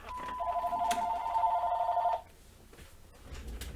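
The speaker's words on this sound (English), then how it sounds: "my phone's ringing" A telephone rings indoors with a steady electronic tone of about two seconds, loud and alone, then cuts off to quiet room noise.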